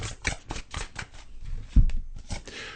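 Tarot cards are shuffled in rapid riffling bursts with a few sharper slaps as the deck is squared, close and fairly loud, with no talk.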